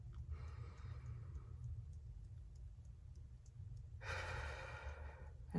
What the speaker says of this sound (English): And I want you to take a deep breath.